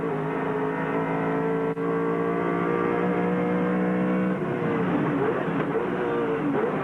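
Racing car engines at Calder Park in 1995 drone loudly and continuously, a high-pitched buzzing roar that shifts in pitch as the cars rev and pass.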